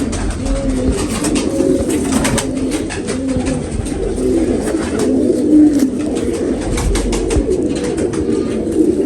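Many domestic pigeons coo continuously in a loft, their low throaty calls overlapping and close, with flutters and scuffling mixed in and no talk.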